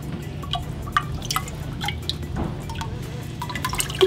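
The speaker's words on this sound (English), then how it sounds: "So I'm just gonna pour it all the way in." Ceramic glaze poured into a doughnut-shaped circle teapot, heard as scattered drips and small splashes of liquid inside the vessel, fairly quiet and close, with no talking.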